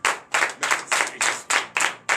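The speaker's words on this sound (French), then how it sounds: "Donnez de vive acclamation à notre" A church congregation at morning prayer claps together in a steady rhythm, eight sharp, even beats in quick succession, close and loud.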